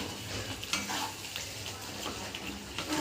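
Bhetki fish bones and a few belly pieces fry in a pan with a soft, continuous sizzle as they are stirred and scraped at a gentle, uneven pace, fairly quiet and without talk.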